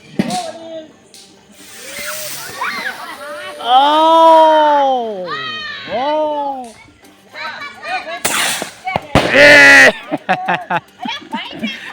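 Diwali firecrackers in a village go off in two sharp, loud bursts near the end, amid excited children's shouts and talk.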